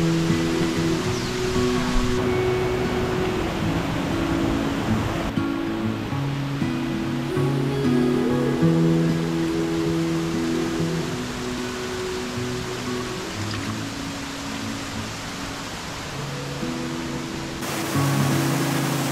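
A waterfall in the Amazon rainforest of the Kaw region, French Guiana, roars as a continuous loud wash of falling water, steady and close, with a faint rumble beneath and no talking.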